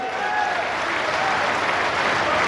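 A large crowd at an outdoor political rally in Jhajjar applauds in a steady, dense wash of clapping that continues without a break.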